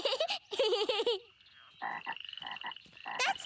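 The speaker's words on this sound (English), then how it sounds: "That's the grown-up daddy frog." Cartoon frog croaks from the Caillou animated series, a grown-up daddy frog giving a series of loud, rhythmic ribbity croaks after a short burst of bright, chirpy vocal sounds.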